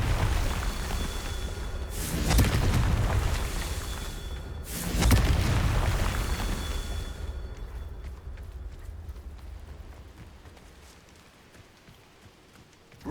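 Confringo fire spell explosions in the video game Hogwarts Legacy, two loud booming bursts a few seconds apart, each followed by a long rumbling decay that fades away.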